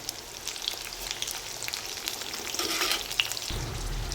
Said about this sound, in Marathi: आता त्यातच आपण हिरव्या मिरच्या टाकून घ्यायच्या आहेत तळायला